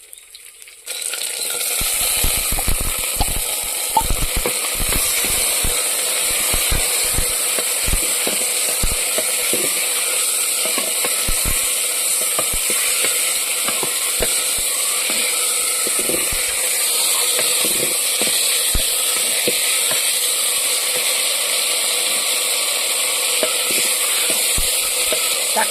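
Tomatoes fry in a pan for a village-style Tamil dish, sizzling loudly and steadily while a spoon stirs them with frequent scraping taps against the pan.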